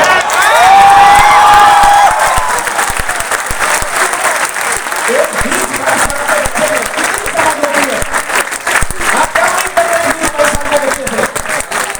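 Loud, sustained applause from a large seminar audience at a meetup in Patna, with scattered cheers and whoops rolling on for the whole stretch.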